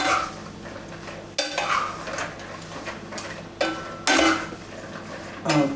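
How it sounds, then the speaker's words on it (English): Vegetables for a simple curry being stir-fried in a pan, with repeated scraping and clattering strokes of a utensil over a soft sizzle, loud and close, with no talk. "We just stir fry it like that."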